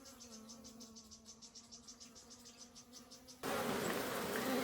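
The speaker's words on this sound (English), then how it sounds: "African bees are busy collecting nectar from all types of flowers." African honey bees in Kenya buzz up close with a steady pulsing drone, then a sudden loud burst of broadband noise takes over for the final second.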